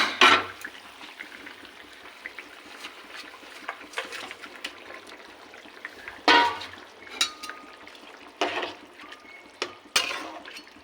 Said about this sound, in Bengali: ঝোল ফুটে এসছে, এবার দিয়ে দেবো মাছ